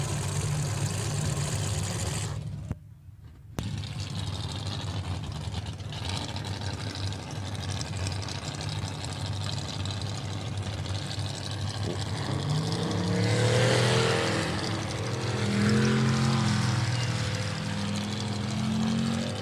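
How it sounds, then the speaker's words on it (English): Turbocharged race boats in a pro racing event, engines droning loudly and steadily at a distance with a rising tonal whine building later, no talk. "if you listen closely, you'll hear the whistling of those turbochargers"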